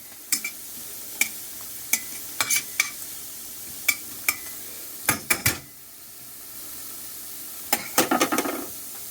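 A spoon stirs and scrapes the bottom of a pan of gravy in a series of sharp, irregular clicks and scrapes over a low simmering sizzle, close and fairly loud, with a brief lull midway.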